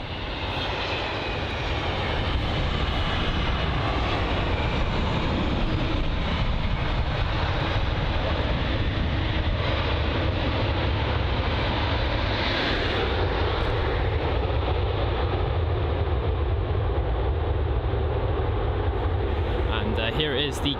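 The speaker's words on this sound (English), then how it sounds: "Here is the Qantas QF1 A380 from Singapore." A Qantas Airbus A380 on the QF1 service from Singapore at London Heathrow produces a loud, steady roar of jet engines that continues for about twenty seconds, while a person talks over it.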